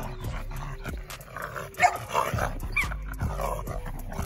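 A pit bull barks and yips in short bursts, close by, with some whimpering between the barks and a bit of background clatter.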